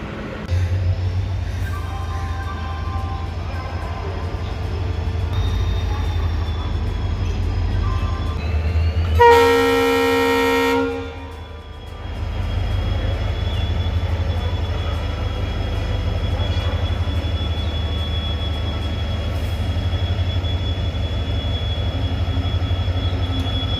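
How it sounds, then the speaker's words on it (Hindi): Passenger train hauled by a WDP-4 diesel locomotive arriving at Jalandhar Cantt station, running from Jalandhar City to Hoshiarpur: a steady, heavy rumble, broken midway by one loud, blaring horn blast lasting about two seconds. "पीछे आ रही है WDP-40 के साथ एक पैसेंजर ट्रेन जो जालंधर सिटी से होशियारपुर को जाती है"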